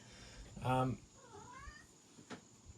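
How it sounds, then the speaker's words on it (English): A pet cat meows once, close and clear, with a short rising second cry after it, while someone talks casually over a quiet room background. "It's my new cat."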